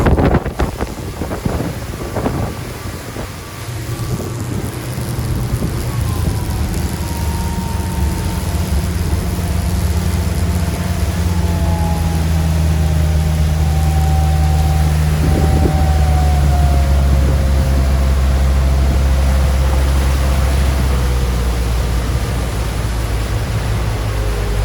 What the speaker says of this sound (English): The boat's running really well. Get the top speed there of just shy of 40 miles an hour